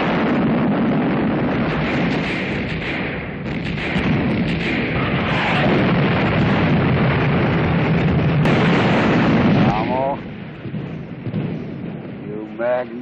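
Heavy artillery fire in a Patton movie trailer, a continuous loud booming rumble like rolling thunder with dense low-end roar throughout, under swelling trailer music and effects.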